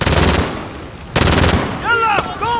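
Rapid automatic gunfire from Call of Duty Modern Warfare rattles in two loud, close bursts, followed by shouted voices.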